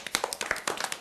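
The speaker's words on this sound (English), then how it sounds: "Shall we give Chelsea and Jessica a clap?" Classroom children clap quickly and unevenly for about a second, a short burst of sharp hand claps fairly close in a small room.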